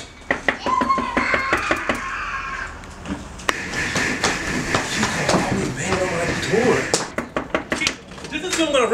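Sharp knocks on a door come in irregular clusters, loud and close, among clattering household noises while people talk throughout.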